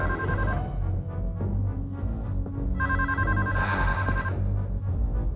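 A telephone rings in two electronic ringtone bursts with a short gap between them, playing over a background music bed.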